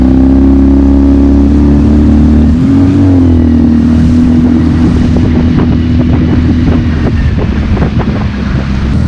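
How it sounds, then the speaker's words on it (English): TRUEKIT Discovery 330 boat with its engine being run in, accelerating and getting up on the plane: a loud outboard drone rises in pitch, then roars steadily over heavy wind buffeting and water rush. "I'm busy running the engine in, but it does get up in the plane quite easy."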